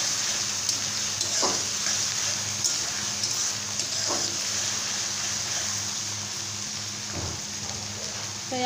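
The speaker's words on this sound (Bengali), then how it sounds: "এখন সবগুলো উপাদানকে একটু নাড়াচাড়া করতে হবে।" Spices and garlic paste fry in a pan while being stirred for a Bengali katla fish curry, producing a continuous soft sizzle with a few scraping stirs of the spoon.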